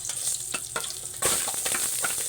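Garlic and onion sauté in a pan, a bright close sizzle with a few scraping stirs, swelling louder partway through as fresh onion hits the hot oil.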